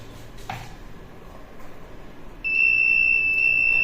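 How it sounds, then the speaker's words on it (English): An electronic buzzer in a train-arrival warning system starts partway through, a steady high-pitched continuous tone, loud and close, after a quiet stretch with a faint click. "all the LEDs and buzzers start producing sound"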